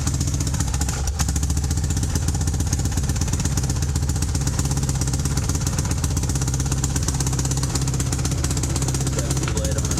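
A Honda Recon ATV engine idles loud and close with a steady clattering rattle and no change in pace throughout.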